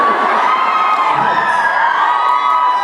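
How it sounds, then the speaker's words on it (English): A live show crowd cheers and shouts with high, excited voices, many youthful, blending into a loud continuous roar of whoops close to the mic. "Don't cheer for the shocking device."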